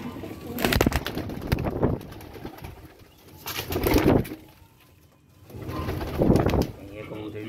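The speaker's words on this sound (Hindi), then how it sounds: "ये कबूतरी लाखी कबूतरी" A Lakhi pigeon hen coos in repeated low bursts at a home loft, three swelling phrases close by with pauses between, the sound of a young bird and the loft around it, and a voice talking faintly in the background.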